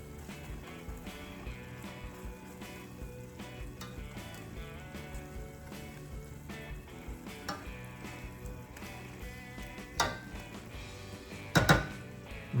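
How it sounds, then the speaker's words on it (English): Chili at a rolling boil in a pot on a home stove, a steady close bubbling and sizzling texture throughout with a few sharper clatters near the end. "that is definitely more of a boil than a simmer at this point"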